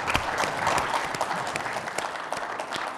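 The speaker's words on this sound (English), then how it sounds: "let's give them a round of applause" Audience applauding a panel at a helicopter industry expo, steady dense clapping throughout at moderate level, no speech over it.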